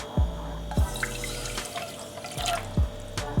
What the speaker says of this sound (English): I'm going to add the water to the pot